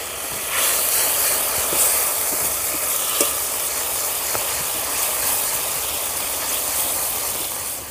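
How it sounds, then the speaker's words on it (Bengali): Hot water hitting a pan of frying mustard and poppy seed paste for shukto, a loud, steady hiss and steamy sizzle that swells in early and holds for several seconds, close up with no voices. "এর মধ্যে সামান্য পরিমাণ একটু গরম জল দিয়ে দেবো মশলাটা কষানোর জন্য"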